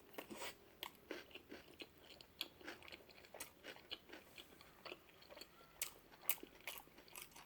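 Close, quiet crunching and chewing while eating fresh cucumber with rice and sriracha, with irregular crisp bites and mouth sounds throughout.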